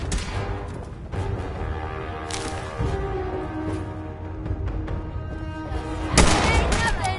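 Video game battle with heavy artillery booms and bursts of gunfire over a low rumbling background, sharp louder blasts at intervals and a strong impact near the end.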